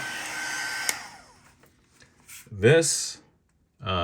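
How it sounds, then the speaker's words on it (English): A small Radio Shack heat gun blows with a steady fan hiss that fades out over a couple of seconds, followed by a clack and brief speech nearby. "This little Radio Shack heat gun."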